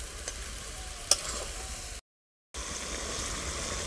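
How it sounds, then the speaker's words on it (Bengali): Spice paste for a chicken and pumpkin curry sizzles steadily in a pan while being stirred, a soft continuous frying hiss with one sharp clink, broken by a half-second gap of silence. "আবারও কিছুক্ষণ এইভাবে কষিয়ে নেব মশলাটাকে"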